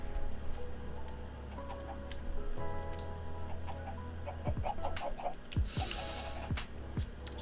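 Chicken clucking in the video game Minecraft on the Endertide SMP server, a few short nasal clucks and squawks scattered over background game sounds and music, fairly close and without speech.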